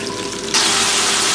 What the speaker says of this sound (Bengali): ফুলকপিটা ভালো করে আমি এর সঙ্গে মিশিয়ে নেব এবং ভেজে নেব